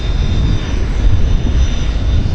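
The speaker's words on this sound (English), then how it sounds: "The number 2 engine's in bucket mode." An airliner engine runs with its thrust reverser buckets deployed at Vancouver International Airport, giving a loud, steady, broadband roar that holds unbroken and close throughout, with no voices.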